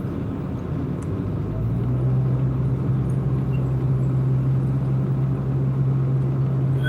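Car engine labouring up an incline on an early morning delivery run, a steady low drone that rises in pitch and holds as revs climb, close and continuous with no talking.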